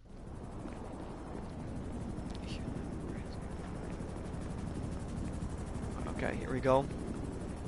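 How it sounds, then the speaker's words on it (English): A helicopter in the GTA video game drones steadily throughout as a continuous low rotor rumble, while someone speaks briefly over it near the end. "you shouldn't have raised the helicopter"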